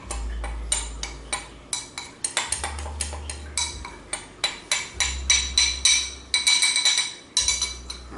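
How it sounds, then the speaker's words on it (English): Spoon clinking repeatedly against a bowl while stirring spices, vital wheat gluten and nutritional yeast for seitan, a steady run of close, bright taps and scrapes with no talking. "we're just stirring that together and dropping it down into our bigger bowl"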